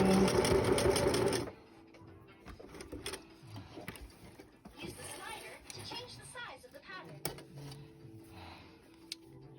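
Sewing machine back-stitching a DIY fabric face mask, a brief fast mechanical whir lasting about a second and a half, followed by quieter clicks and handling noises with a person talking.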